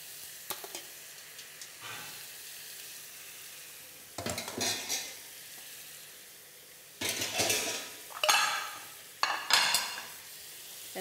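Food being stirred in a pan with bursts of sizzling and scraping strokes, quiet at first and then growing louder in several short clusters of frying noise and utensil contact, with no talking.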